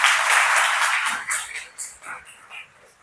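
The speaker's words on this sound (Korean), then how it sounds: "우리 하나님께 다시 한번 영광의 박수 힘차게 올려드립니다" Congregation applauding in a church service, a dense burst of clapping that fades into scattered claps as a voice speaks over it.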